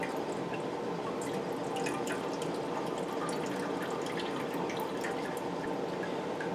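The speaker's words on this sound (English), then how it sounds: "you're going to drain off the excess liquid" Liquid from cooked pulled pork drains off steadily, a continuous wet trickling and dripping with no talk over it.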